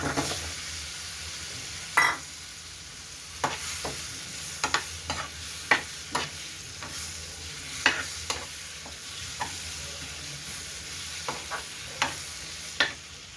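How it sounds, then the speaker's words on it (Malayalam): Paneer cubes fry in a pan for paneer butter masala, with a soft, steady sizzle under sharp, irregular clinks and scrapes of a spatula stirring against the pan. "ഇതിലേക്ക് നമുക്ക് നമ്മുടെ പനീർ ക്യൂബ്സ് ഫ്രൈ ചെയ്യാം."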